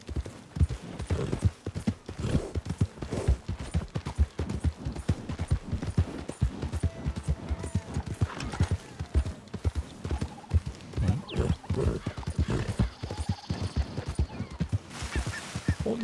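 Galloping horse hooves keep up a fast, steady clip-clop while riding in the video game Red Dead Redemption 2, loud and continuous throughout, with brief whinnies and other game sounds mixed in.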